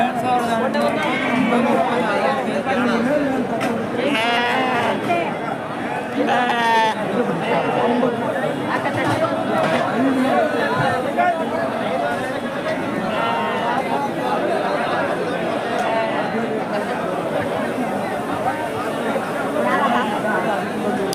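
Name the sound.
busy village weekly market with crowd and sheep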